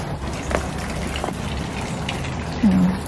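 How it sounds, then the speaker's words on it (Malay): Rain falls steadily in the Cameron Highlands, a soft continuous patter and trickle of water outdoors near a garden, with a brief low voice near the end. "Hujan je."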